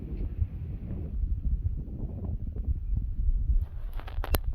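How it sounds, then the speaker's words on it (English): Wind blowing at Sukhna Lake in Chandigarh, a steady low rumble across the microphone, with a few faint higher chirps near the end. "We let the wind calm us down."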